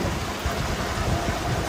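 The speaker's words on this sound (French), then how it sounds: "c'est une pluie assez dense" Dense rain pours steadily onto a racing sailboat at sea, a continuous close hiss of drops with low rumbling undertones and no voices.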